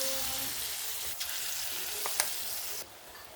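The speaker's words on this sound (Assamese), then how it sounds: "এতিয়া মই এনেকৈ বাকী দালিখিনিৰো বৰাখিনি ভাজি ল'ম।" Lentil fritters (bora) frying in hot oil give a steady, soft sizzle throughout, with a few brief clicks and pops near the middle before the sound drops away at the end.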